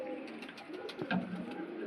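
A rare Kolkata Chand Bhura Shakdum pigeon coos softly nearby, a series of low, rolling throaty notes repeating in quick succession.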